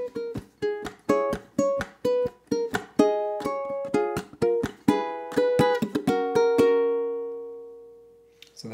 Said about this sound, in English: Here's what the first four sound like.